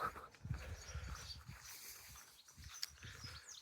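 Dogs pant and snuffle close by with soft padding movement, low and rustling throughout, with a brief sharp sound near the end.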